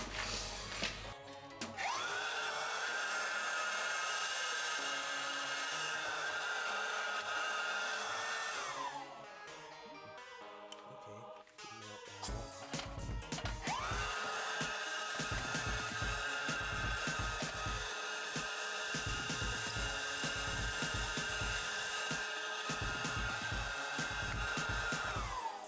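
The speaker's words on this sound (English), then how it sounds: "I'm gonna see if the vacuum cleaner can get that." A vacuum cleaner cleaning dirt from a Dell Dimension 3000 PC case roars steadily, cuts off briefly midway amid clattering and knocking, then starts up again and keeps whining loudly.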